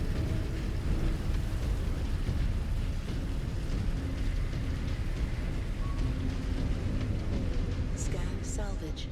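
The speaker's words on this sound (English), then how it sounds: "The rain sound just got a lot more intense." Steady, dense rain hiss from a downpour in the mech combat game MechWarrior 5: Clans, a flash storm on the planet Alshain, running loud and unbroken throughout with faint rumbling underneath and a few brief electronic tones near the end.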